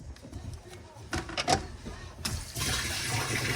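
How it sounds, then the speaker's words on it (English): Water from a garden hose pours into the plastic water tank of a car pressure washer setup, a steady rushing splash that swells louder toward the end, with a person talking over parts of it. "while the water tank is filling up"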